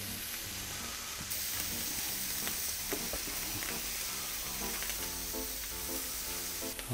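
Beef searing directly on glowing Binchotan charcoal, a close, continuous bright sizzle and crackle with scattered pops, steady throughout.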